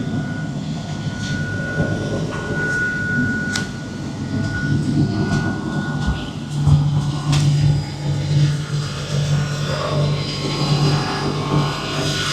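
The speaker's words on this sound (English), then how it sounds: "Caterpillar C30 and 1200 horsepower when it's on maximum LPM." A 1200-horsepower Caterpillar C30 ship engine runs in an engine room aboard the vessel, a steady, loud low drone with a constant hum and mechanical clatter throughout, no talk.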